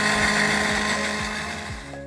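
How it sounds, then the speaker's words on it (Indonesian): A blender whirs steadily while blending tomatoes and chilies, a loud motor drone with a regular rhythmic churn that winds down toward the end. "Ini dia tadi tomat sama cabe, semuanya aku blender ya."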